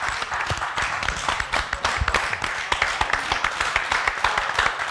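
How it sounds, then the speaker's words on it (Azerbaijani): Applause from a crowd at the funeral of Aygün Bəylər in Azerbaijan: dense, steady clapping from many hands, sustained for several seconds without a break. "Güzel bir alqışlar"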